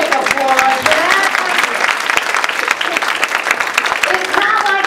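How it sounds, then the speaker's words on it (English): Audience applause during a feminist author's humorous talk, a steady burst of clapping running through the stretch, with a speaking voice over it at the start and again near the end. "I'll take applause for that"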